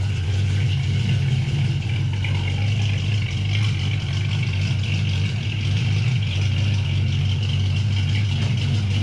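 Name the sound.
Ford Foxbody Mustang engine idling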